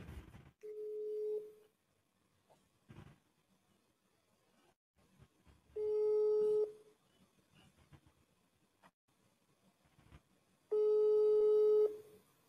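Telephone ringback on an unanswered call, three long steady tones separated by pauses, with faint background sounds between them and no one picking up.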